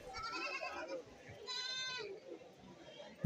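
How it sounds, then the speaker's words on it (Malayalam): A goat at a goat market gives one clear, wavering bleat of about half a second, standing out among the chatter of nearby people talking. "ഇവിടെ ഒരാട് ഇപ്പോൾ ഉണ്ട്"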